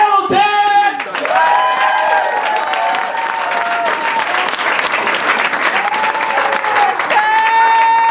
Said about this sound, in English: I want everyone to give a big round of applause for Russell Hamilton!